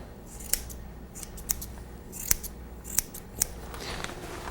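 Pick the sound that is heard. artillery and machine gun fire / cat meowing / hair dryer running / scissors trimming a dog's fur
scissors trimming a dog's fur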